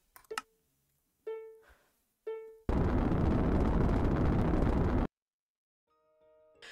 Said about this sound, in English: and well, we can launch our rocket